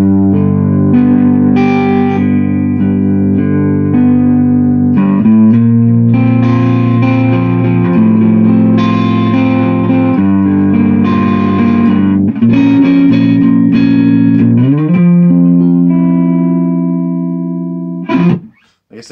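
Tenor Telecaster electric guitar on its neck pickup with volume and tone fully up, played through an Orange Tiny Terror practice amp for a hairy, distorted tone; sustained chords and picked notes ring continuously, loud and close, ending abruptly.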